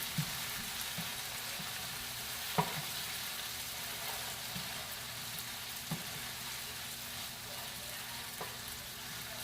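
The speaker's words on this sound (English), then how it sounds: "So you stir in together, allow the beef to soak in some flavors." Beef chunks fry in a pot for a beans and corn dish, with a steady loud sizzle throughout and occasional soft knocks of a spoon as the meat is stirred, close with no talk.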